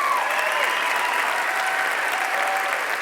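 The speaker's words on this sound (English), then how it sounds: "Let's give one more round of applause for both groups" Sustained audience applause at a fitness trade show, loud and steady throughout with dense crowd clapping and no pauses.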